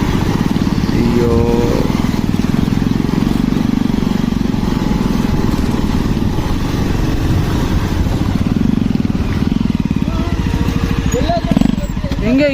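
KTM Duke 250 motorcycles ride a heavy off-road trail, with a steady close engine rumble and throttle changes heard throughout under people talking.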